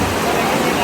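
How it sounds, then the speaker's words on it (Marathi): Heavy rain pours down outside, a steady dense wash of water noise that stays loud and even throughout with no break or distinct drops. "तर बघा आता पाऊस बघा चालू झाला, दिवसभर एवढाच पाऊस आहे."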